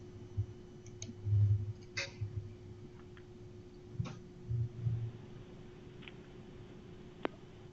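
A computer mouse gives a few sparse, faint clicks, spaced irregularly over a quiet room hum, with soft low thumps in between and no speech.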